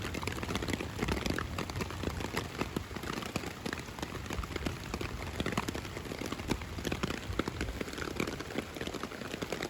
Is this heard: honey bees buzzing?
no